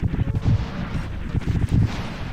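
Mech's unlimited cannon fire in the game Cybernator, a rapid burst of heavy, booming shots thudding loudly in quick succession over a short stretch.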